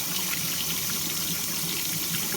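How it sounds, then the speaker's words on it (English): Hot water runs from a tap into a sink as a steady, even hiss of flowing water, close and continuous, with no voices. "I just wanted to let the little hot water run in the sink a little bit before we leave today."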